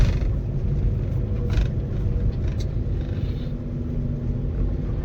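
A car drives along a badly broken, rough road, its low rumble and rattling body noise steady and near for five seconds, with no voices.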